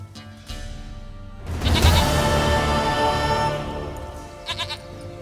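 A goat in The Witcher 3 video game bleats loudly and close, one drawn-out wavering cry that fades, followed by softer game ambience and a few faint clicks.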